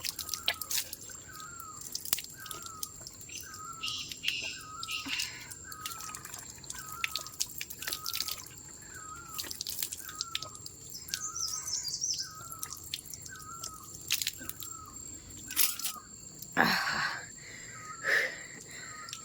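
Water drips steadily from an old mountain spring spout, each drop a clear, evenly spaced plink close by, with birds calling in the background and a brief louder splash near the end.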